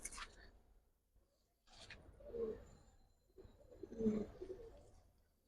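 Giribaj tumbler pigeons give a few soft, low coos in short bursts, with faint background noise between calls.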